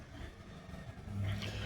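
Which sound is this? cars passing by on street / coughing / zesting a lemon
cars passing by on street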